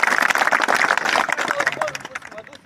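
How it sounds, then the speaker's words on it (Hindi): Audience clapping at a rally speech opposing an airport, quick uneven bursts of many hands clapping, close and lively, with voices mixed in and someone talking as it fades. "4 बार तालियां बजाओगे"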